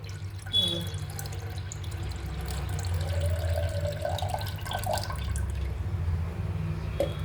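Water from a second rice rinse pours into a pot, a steady trickling, splashing stream close by that runs unbroken for several seconds.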